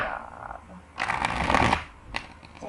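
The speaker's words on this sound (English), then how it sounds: "One more shuffle." A deck of tarot cards is riffle-shuffled up close, a loud papery flutter lasting about a second, followed by a brief sharp card snap; faint quiet room tone before and after.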